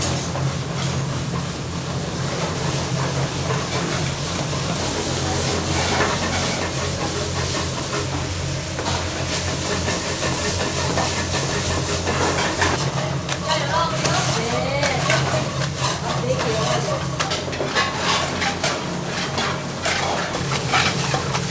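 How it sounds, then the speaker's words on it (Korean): A master cook stir-fries spicy octopus in five pans at once in a busy restaurant kitchen, a loud continuous hiss and sizzle with scraping, rattling pan noise throughout and a voice talking over it. "익숙한 듯 5개의 팬을 동시에 올려 낙지볶음을 요리하는 명인"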